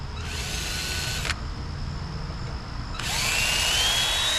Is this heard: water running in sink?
no